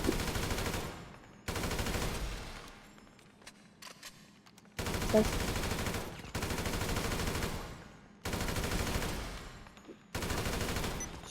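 Bursts of rapid automatic gunfire in GTA V come in roughly regular volleys, separated by short quiet gaps, and a single word is spoken briefly.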